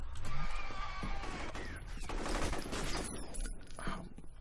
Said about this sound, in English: I'm getting shot at from every angle.